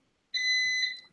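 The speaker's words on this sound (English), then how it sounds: "you hear that buzzer in the background?" A buzzer sounds in the background as one sharp, high electronic tone. It starts abruptly, holds for under a second and then cuts off, with near silence before it.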